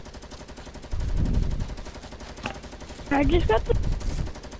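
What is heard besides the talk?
gunfire in the video game Fortnite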